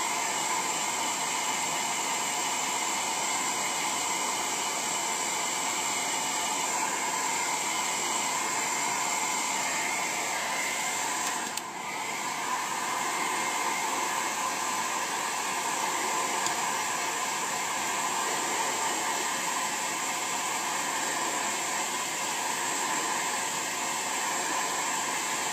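A hair dryer runs continuously close by, drying a craft piece for a vintage caravan project, giving a loud steady airy whir with a brief dip partway through and no talking.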